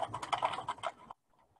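A leftover paper lunch bag is folded and rolled tightly into a fire log, giving close, crisp rustling and crackling bursts for about a second before falling quiet.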